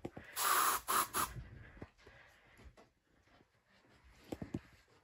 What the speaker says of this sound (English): I have sprayed it, so it's gonna go.